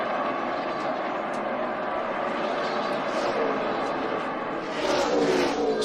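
NASCAR Cup Series race cars on the final lap of a 2011 race roar through turns 3 and 4, a loud, sustained engine drone that swells slightly near the end beneath a commentator's voice.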